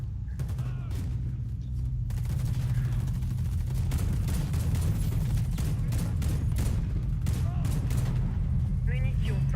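Bursts of rapid gunfire and explosions rattle through a Warface match, dense and continuous, with voices talking over the shooting.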